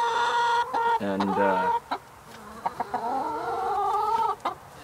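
A broody backyard hen clucks and trills close by in a series of drawn-out, wavering calls with short pauses between them.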